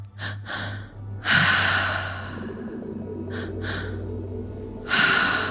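Deep breaths during a breathwork exercise, close and loud: quick sharp inhales followed by long, slow airy exhales, with a fresh inhale near the end.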